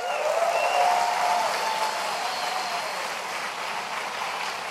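A large keynote audience at a tech conference breaks into broad, sustained applause that fills the hall, a little louder at the start and then holding steady, with no voices.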